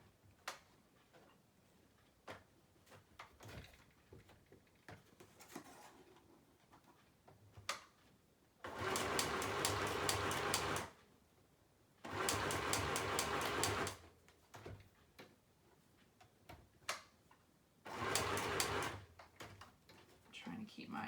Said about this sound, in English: Now let's sew these top and bottom pieces.